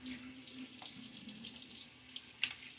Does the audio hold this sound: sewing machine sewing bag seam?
no